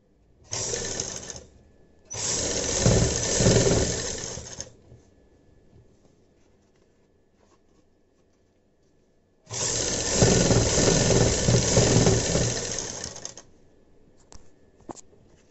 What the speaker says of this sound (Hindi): यहाँ पर रख के इसके ऊपर ऐसे करके सिलाई लगा देंगे अच्छे से